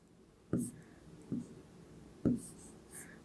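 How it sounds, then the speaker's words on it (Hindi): A pen scratching on paper during a Class 8 maths lesson, with a few short, quiet writing strokes separated by pauses and no talking. "तो लिख लेते हैं फटाफट"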